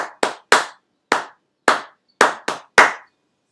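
Sharp, close hand claps in a steady rhythmic pattern, eight distinct claps with a quick pair near the end, alone in a quiet room.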